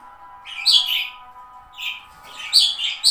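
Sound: budgerigars chirping at their nest

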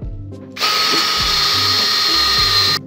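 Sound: drilling a ring shape with a drill

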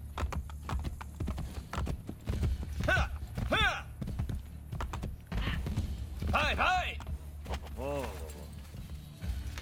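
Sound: horse hooves in video game Assassin's Creed Brotherhood

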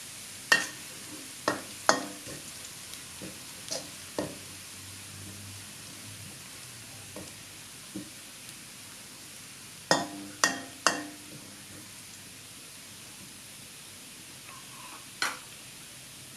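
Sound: garlic frying in a pan

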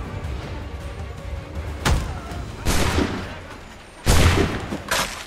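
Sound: gunfire from the video game Assassin's Creed 3 Remastered

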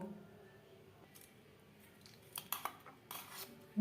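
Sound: stirring batter after adding milk

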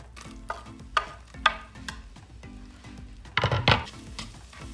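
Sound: garlic sizzling in butter in a pan

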